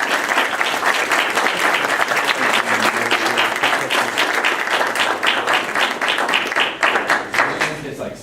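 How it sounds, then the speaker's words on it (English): Dense, sustained audience applause for student musicians at a school board meeting, many hands clapping steadily and close, with a faint rhythmic pulse emerging among the claps. "Let's give them a round of applause"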